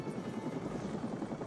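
A helicopter's rotor thumps steadily in a loud, close, continuous drone with no other sounds, in a Chuck Norris film scene.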